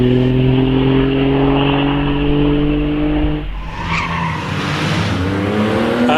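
A vintage sports car launching off the line at the Prescott hill climb, a loud engine roaring near and steady before the pitch climbs sharply as it accelerates away, with tyre noise.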